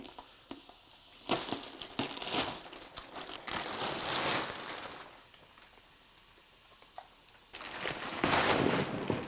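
Packaging comes off a compressed HUSFU oversized sofa bed mattress: close, loud bursts of crinkling plastic and hissing air, easing into a quieter stretch before another loud crumpling rush at the end.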